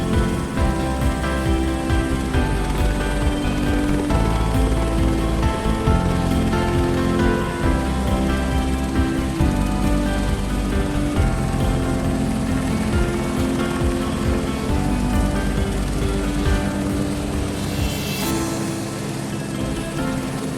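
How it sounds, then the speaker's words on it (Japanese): Airbus H125 helicopter in Microsoft Flight Simulator 2024 sliding down from the summit of Mount Fuji, its engine and rotor holding a steady, loud, continuous drone with dense layered tones throughout. "ヘリで富士山頂を滑り降りていた。"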